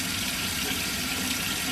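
A bathroom sink tap runs steadily with a constant hissing, splashing flow, close and fairly loud, with no voices over it.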